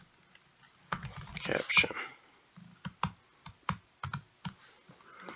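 Typing on a computer keyboard: close, sharp clicking keystrokes in short irregular bursts, mixed with a quiet spoken voice.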